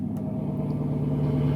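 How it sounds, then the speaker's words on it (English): A Ram 1500 pickup engine with an exhaust cutout idles in a steady low rumble, close and even, a faint click at the start and no voices. "I'm going to start truck up."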